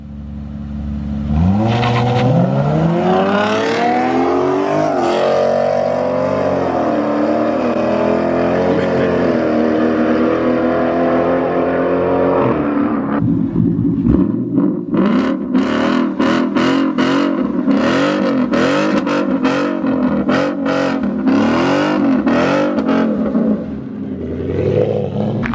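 Chevrolet Camaro with a manual transmission in a street race, loud engine revving that climbs and drops through shifts, then a run of sharp repeated revs and pops, with a crowd's voices underneath.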